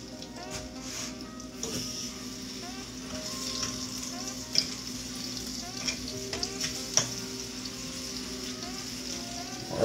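Plantains fry in a pan for candied plantains, giving a steady bed of sizzle and crackle with a few sharper pops and clinks over roughly ten seconds, close up and with no talking.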